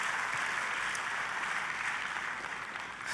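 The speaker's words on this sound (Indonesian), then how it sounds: "Tepuk tangannya boleh yang paling meriah buat Tuhan kita." A church congregation claps in sustained, dense applause at steady moderate volume throughout, with no talk over it.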